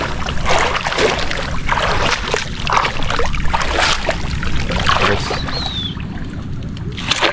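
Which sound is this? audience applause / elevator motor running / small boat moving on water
small boat moving on water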